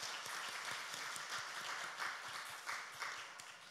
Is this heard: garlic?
no